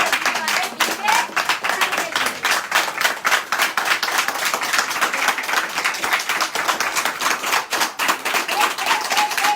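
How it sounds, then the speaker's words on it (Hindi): An audience at a Hindi business-plan seminar claps loudly in a dense, continuous round of applause that holds steady for the whole stretch. "एक बार जोर से ताली लगाओ"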